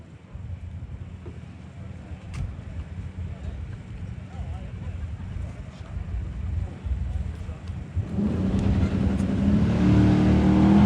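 A 6-cylinder Mustang drag racing car staging at a cheap car challenge event, its engine a steady rumble that swells loudly near the end, with wind buffeting and a commentator talking over it.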